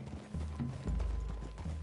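Horse hooves clip-clop in Red Dead Redemption 2 as the riders near a forest clearing, a steady close rhythm of low thuds lasting under two seconds with no talking.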